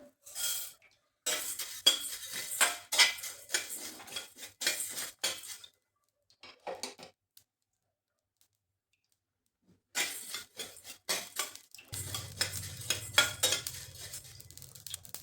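Coriander seeds dry roasting in a pan for homemade sambar masala, a soft, intermittent rattling scrape of stirring in bursts, broken by a long silent pause, then a low rumble with continued stirring.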